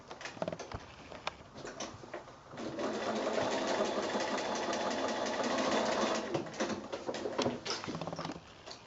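A sewing machine stitching across the corner of a fabric project bag, running in a steady whirring burst of about three seconds between brief handling clicks and shorter stitches.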